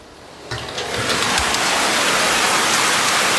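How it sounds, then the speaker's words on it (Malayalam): Steady rain begins abruptly and settles into a loud, continuous hiss of drops pouring down on a surface, with no voices. "മഴ പെയ്തു തുടങ്ങി."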